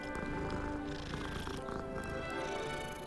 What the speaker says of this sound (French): Oh, un petit chat.